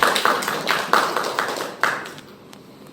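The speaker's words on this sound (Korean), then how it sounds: "큰 박수 부탁드리겠습니다." An audience at a gender-equality policy forum in a town hall meeting room claps for a speaker, a thin, uneven round of hand claps that fades out within a few seconds.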